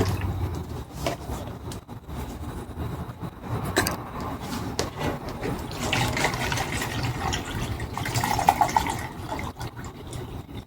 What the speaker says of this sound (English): So let's get the watering and go from there.